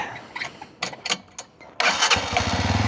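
A Brixton Cromwell 125 motorcycle engine starts up: a few short cranking bursts and sputters, then it catches and settles into a loud, steady, close-up idle with a fast rhythmic putter.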